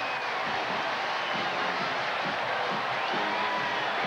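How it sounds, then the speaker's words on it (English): A packed college football stadium crowd roars during a 2001 Auburn Tigers vs Ole Miss Rebels game, a dense continuous wall of cheering and whoops with no letup, heard from within the stands. "First down, and listen to the crowd."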